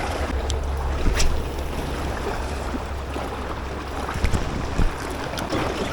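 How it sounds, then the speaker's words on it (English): Rough Jamaican sea churns around a small fishing boat, with water sloshing and strong wind buffeting the microphone in continuous gusts and occasional thumps. "Rough seas."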